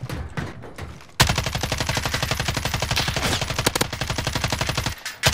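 Rapid automatic gunfire in Call of Duty: Warzone, a dense burst of evenly spaced loud shots lasting several seconds after a few scattered single shots, ending abruptly.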